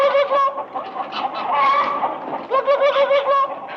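A man imitates a chicken's clucking with his voice, a continuous run of nasal, honking clucks at close range with no other sound.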